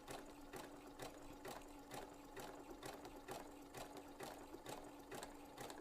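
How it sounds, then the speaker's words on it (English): A sewing machine runs steadily, stitching fabric along a pearl, with an even rapid mechanical rhythm of needle strokes heard close and alone at low volume. "we'll start sewing."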